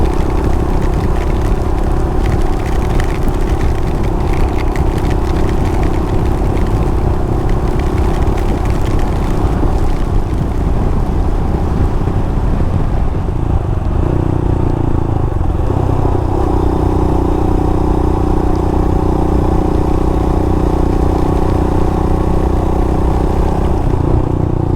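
A Royal Enfield Himalayan motorcycle engine runs steadily and loud throughout, close to the microphone, with a shift in engine tone midway as the bike turns off onto a dirt road in the Grampians.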